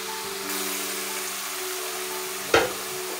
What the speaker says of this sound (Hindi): मसाला जितना अच्छा भुना जाएगा उतना ही सालन का जायका मज़ेदार बनेगा